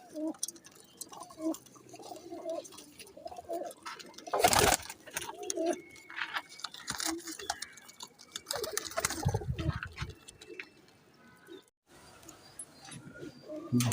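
Teddy Ferozpuri cross pigeons coo in soft, repeated throaty phrases from close by in a loft, with wing flaps, shuffling and brief clatter around them and a voice speaking now and then.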